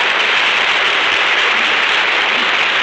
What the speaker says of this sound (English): That applause goes from coast to coast.